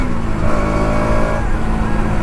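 A motorcycle pulls away, a loud, close engine drone with a rising tone that holds steady and then eases, no voices over it.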